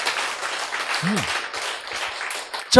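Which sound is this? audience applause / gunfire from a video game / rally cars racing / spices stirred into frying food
audience applause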